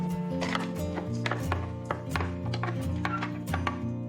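A food processor pulse-grinds ingredients that were toasted in a wok, its motor whirring in short repeated bursts with a steady humming drone and choppy rattling of the pieces against the blade, loud and close.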